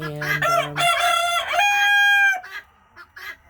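A bantam rooster crows once, a loud drawn-out call up close, followed by a few short clucks.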